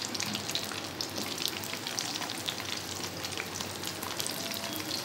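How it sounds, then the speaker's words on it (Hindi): Stuffed bitter melons, about half a kilo, frying slowly in oil over a low flame, giving a continuous even sizzle with fine patter-like crackling and no voices. "ये आस्ता आस्ता फ्राई हो रहे हैं"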